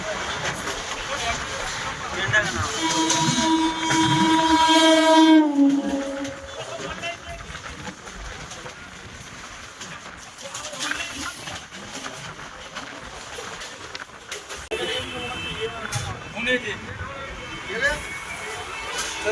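A local train on the Sealdah–Diamond Harbour line runs from Sonarpur towards Subhashgram with a steady low rumble and rattle, heard under someone talking for much of the time.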